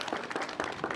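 Zoo visitors at a seal show applaud, a brief burst of many hands clapping together at moderate distance with no talk.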